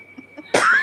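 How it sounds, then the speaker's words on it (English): Laughter bursting into a cough among friends on a casual group discussion, a single sharp loud burst arriving late after quiet murmuring, close to the microphone. "We're all like laughing and coughing."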